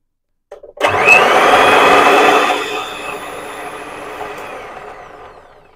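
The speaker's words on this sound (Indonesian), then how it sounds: "Saya akan coba mixer sebentar ya guys." An electric mixer whirs steadily through martabak batter with vanilla, about a kilo of mixture, starting abruptly loud and close, then settling into a quieter, continuous hum until the end, with no talking.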